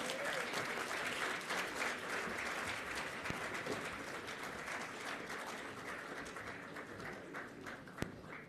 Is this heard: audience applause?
yes